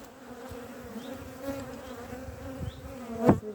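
Honeybees buzzing around open beehives during a hive inspection, a steady droning hum close by with a louder pass near the end, no talking.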